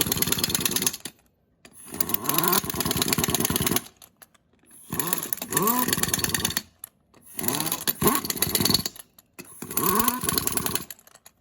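An impact wrench runs wheel lug nuts onto a tire in five loud, close bursts of rattling hammering, each lasting a second or two, with brief silent gaps between them.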